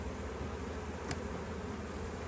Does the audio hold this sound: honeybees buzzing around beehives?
yes